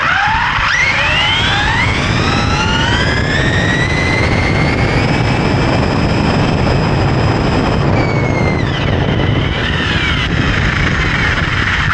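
Fast electric RC car with ballooning tyres on a warm day, a loud high-pitched motor whine that rises as it accelerates, holds steady, then falls and rises again as it passes close by.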